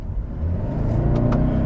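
A 2021 Toyota Camry XLE Hybrid under full-throttle acceleration, heard from the cabin as a steady, rising engine drone with a rumbling low end and climbing harmonics, loud and close with no talking.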